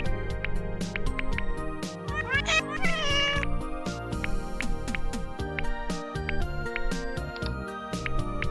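Repeated cat meows and yowls, loud and close, play in the video game Plumbers Don't Wear Ties amid game music and clatter, with a person speaking briefly.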